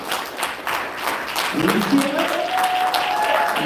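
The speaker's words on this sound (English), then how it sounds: "so we can get a big round of applause" A live storytelling-event audience applauds the storytellers called back onstage, sustained clapping and cheers running throughout as an emcee speaks over it.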